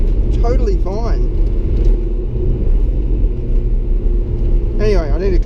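2016 Lamborghini Huracan Spyder engine pulling hard through the gears, a loud close rumble with rising revs and quick shifts, while a person talks over it.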